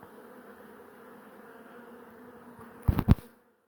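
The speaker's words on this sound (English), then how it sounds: "we'll put her in the hive box and the bee should start heading in" Honeybees buzz around a hive box as a colony is relocated, a steady faint drone followed near the end by a few louder close bursts of handling noise before it cuts off.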